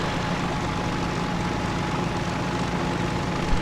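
A propeller warplane engine drones steadily in the IL-2 combat flight sim, a dense, even roar with a low hum, unbroken and loud throughout with no talk.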